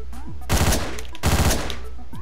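Gunfire in the top-down shooter Hotline Miami, two loud rapid bursts of automatic shots about a second apart over steady game music.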